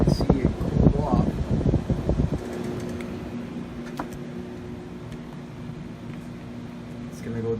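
A room air conditioner running with a steady low hum and faint airflow whoosh, preceded by a burst of close rustling and handling noise in the first couple of seconds.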